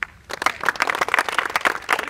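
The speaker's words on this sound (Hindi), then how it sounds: "पहले इनके लिए ताली बजाओ" Students in an inter college classroom clap together for their classmates, a quick burst of uneven, fairly close hand claps that starts abruptly after a brief pause and continues steadily.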